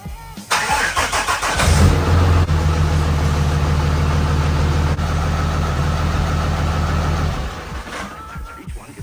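A single-cab pickup truck engine cranks briefly, catches and settles into a steady, loud low rumbling idle, close by, before cutting off near the end.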